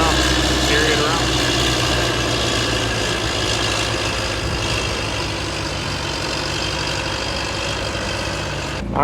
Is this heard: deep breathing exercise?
no